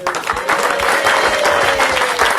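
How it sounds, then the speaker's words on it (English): A live event audience breaks into loud, sustained applause, a dense continuous wash of clapping with a faint murmur of the crowd beneath. "Come on, give my clap."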